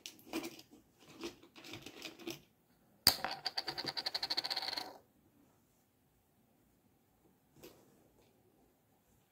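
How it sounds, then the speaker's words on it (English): Ketchup bottle being opened: a few scattered scraping handling noises, then a rapid run of plastic clicks for about two seconds as the cap twists, followed by quiet and one faint later rustle. "Take the bottle. Okay,"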